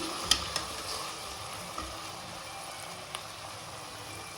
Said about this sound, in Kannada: ಚೆನ್ನಾಗಿ ಫ್ರೈ ಆಗಿ ಎಣ್ಣೆ ಬಿಡಬೇಕು